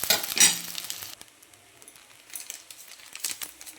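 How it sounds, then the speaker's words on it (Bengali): Rice stir-fried with vegetables for fried rice: a loud hissing burst of sizzle and stirring at the start fades to quieter, intermittent tossing and crackle, with one more sizzling flare near the end. "এবারে রাইসটা সবজিগুলোর সঙ্গে ভালো করে মিশিয়ে নেব"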